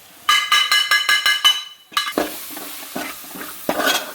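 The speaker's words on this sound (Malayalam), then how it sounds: "മഞ്ഞപ്പൊടി മുളക് പൊടി മല്ലിപ്പൊടി ചെറുതായിട്ടൊന്ന് മൂപ്പിച്ചിട്ട് ഇതിലോട്ട്" Ginger, garlic and turmeric, chili and coriander powders sauté in a pan with a run of rapid stirring scrapes in the first half, followed by louder sizzling bursts and more scraping, close and clear with no talking.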